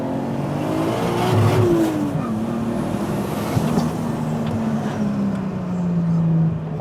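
A tuned Nissan Skyline GT-T with a roughly 500-horsepower RB25DETT engine, G-Ready exhaust and upgraded turbocharger, accelerating hard. The close, loud engine drone climbs and falls in pitch through continuous revving, with no talking.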